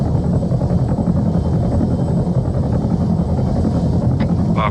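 A helicopter in the video game Arma 3 drones loudly and steadily, its rotor thump and engine roar filling the whole stretch without any talk over it.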